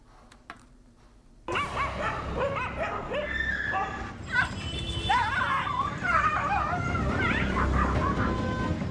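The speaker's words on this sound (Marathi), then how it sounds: "सांगलीच्या माळी गल्लीत कुत्र्यांना पकडण्यासाठी सुरू असलेली पालिकेची पळापळ" Stray dogs in a lane of Sangli bark, yip and whimper excitedly during a municipal dog-catching drive, a loud, busy chorus of several animals that starts abruptly and keeps going.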